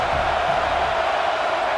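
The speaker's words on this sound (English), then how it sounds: "Third down play in the red zone, and this crowd is at fever pitch." Dense roar of a packed college football stadium crowd during an Alabama vs Florida game, a constant loud wash of cheering and yelling with no breaks.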